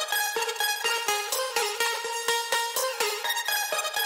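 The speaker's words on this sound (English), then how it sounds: "The vocal chopper sounds like this." A pre-made vocal chop sample played in a synth, a bouncy, jumpy run of short pitched vocal hits in quick rhythmic succession, loud and steady without talking.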